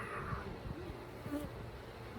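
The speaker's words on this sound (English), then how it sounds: "look at all the bees that you guys have behind you" A steady, faint buzzing of many honey bees around their hives hums continuously in the open air, without a break, and with no talking.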